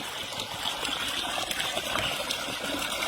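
Water gushes steadily from the 3-inch delivery outlet of a two-panel solar motor pump, a continuous splashing rush heard up close with no talking.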